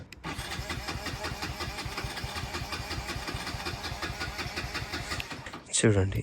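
A Hero Splendor motorcycle cranks over and over in a rapid rhythmic churn without catching, close and continuous, followed by a burst of louder noise at the end.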